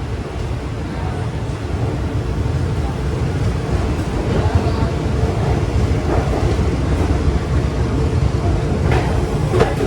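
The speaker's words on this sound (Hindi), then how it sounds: "अपनी ट्रेन बिल्कुल ऑन टाइम निकल चुकी है CSMT रेलवे स्टेशन से" A passenger train, the Mumbai–Varanasi Mahanagari Express leaving CSMT station, gives off a loud, continuous rumble and rattle, with a wind-like rush that never lets up.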